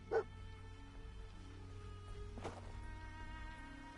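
Dogmeat, the dog companion in Fallout 4, gives a single short bark near the start, then a low game ambience hum continues with a faint clatter midway.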